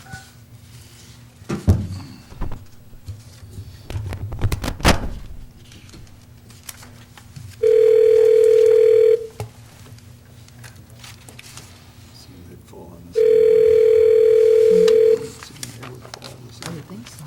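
A telephone call is placed over a speaker in a city council meeting room, with two long steady electronic tones a few seconds apart amid soft room rustle and handling noise.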